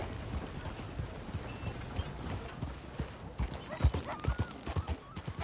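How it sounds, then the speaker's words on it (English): Steady clip-clop of horse hooves trotting at an even pace in the video game Red Dead Redemption 2, fairly close, with a faint whinny and no speech. "That sure is a beautiful horse."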